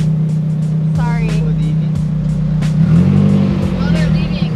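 Cars pull away from a car meet, their engines rumbling and revving in a steady loud drone that swells near the end, with people's voices faintly mixed in.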